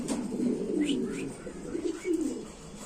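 Large fancy pigeons coo in soft, rolling, repeated phrases, fairly close, over a quiet background hiss.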